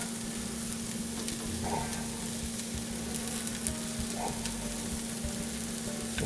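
Spices and ground coriander seed cooking in a pan, a faint even sizzle with an occasional light stir, steady and fairly quiet.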